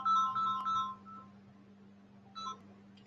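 A phone ringtone plays a short melodic burst of electronic tones, pauses, then sounds again briefly, over a steady low hum.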